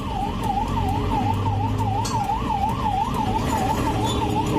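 Ambulance siren wailing steadily in a rising and falling pattern, loud and continuous over road traffic noise, with no talk.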